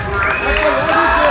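Audience at a Dorock XL rock concert in Beşiktaş, a sustained wash of crowd applause and cheering with voices mixed in, steady and loud throughout.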